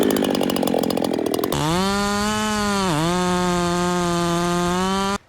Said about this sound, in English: I want to see what this saw feels like in the hardwood.